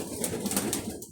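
Fancy pigeons on a farm coo in a short, close burst of low throaty notes, with no talking.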